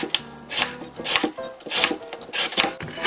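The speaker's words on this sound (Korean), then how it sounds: "굵직한 채를 썰어줍니다" A knife cutting radish into thick julienne strips on a wooden board: rhythmic chopping strokes, about five firm cuts at a steady pace, each with a short scraping rasp, close and clear.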